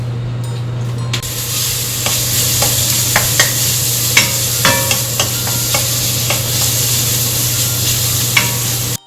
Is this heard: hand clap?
no